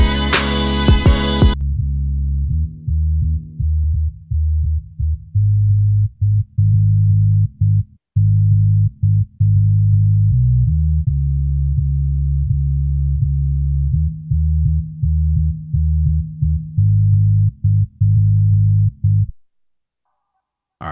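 A bass sample in Logic Pro X with all its top end rolled off by EQ plays a deep, muffled line of repeated low notes with short gaps, loud and alone after a brief bright burst at the start.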